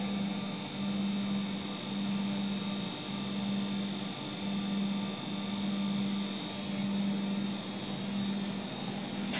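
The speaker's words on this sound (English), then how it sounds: "First step is rotary pump on. So we need to create a vacuum." A rotary vacuum pump for diffusion bonding drones on steadily, a close, even mechanical hum with a faintly pulsing low tone that holds unbroken throughout, with no voices.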